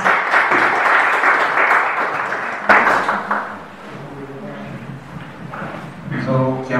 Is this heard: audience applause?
yes